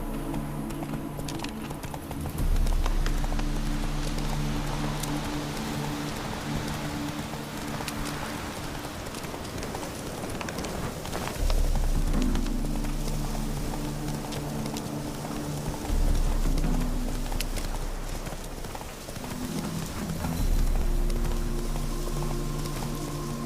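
Roach the horse gallops through the rain in The Witcher 3, hooves clip-clopping in repeated bursts over a constant patter of rainfall, with low surges as the pace picks up and eases.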